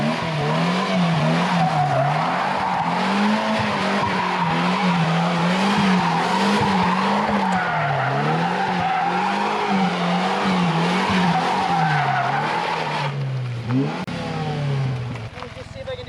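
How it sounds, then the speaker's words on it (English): A Polaris Slingshot spins donuts at close range, its tires squealing continuously in a wavering, circling pattern over a revving engine, and the squeal fades out near the end. "Test number 2, the infamous donut."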